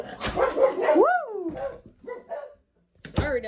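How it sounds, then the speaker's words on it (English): Dogs inside a garage let out loud, close barks and yips, then fall quiet before a final burst of barking. "I didn't know there were dogs in there."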